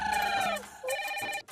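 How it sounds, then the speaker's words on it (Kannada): A phone rings indoors in a short, bright electronic ringtone of two melodic bursts with a brief gap between them. The ring is clear and alone with no talk over it. "ಫೋನ್ ರಿಂಗ್ ಆಗ್ತಿದೆ ಹೋಗಿ ಮಾತಾಡ್ಕೊಂಡ್ ಬರ್ತೀನಿ"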